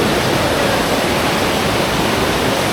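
Small river waterfall at a forest nature spot in Malaysia, a steady, loud broadband rush of falling water filling the whole short stretch with no let-up.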